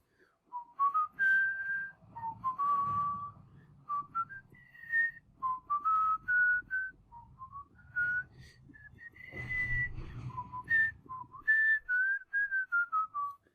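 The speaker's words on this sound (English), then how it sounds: "after I stop whistling" A person whistles a wandering melody alone for over ten seconds, fairly close and clear, the notes rising and falling in short phrases with brief pauses and a soft low rumble underneath.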